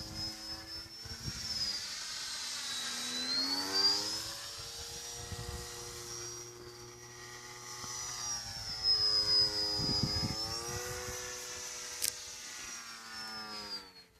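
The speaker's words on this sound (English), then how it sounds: "So this is Vindestal, the crazy Swedes airplane." A Vindestal radio-controlled electric model airplane flies at an outdoor electric-fly event, its motor whining at a high pitch that rises and falls as it passes repeatedly, moderately distant and fairly faint.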